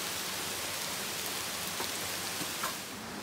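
Steady rain hissing on surfaces nearby on the Appalachian Trail in Massachusetts, a constant broadband wash with a few faint drips standing out.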